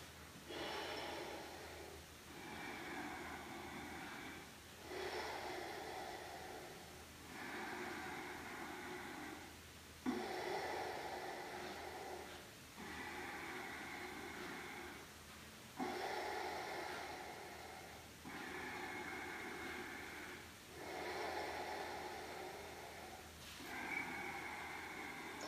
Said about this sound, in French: on va placer 4 respirations statiques